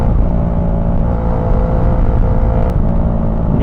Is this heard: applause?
no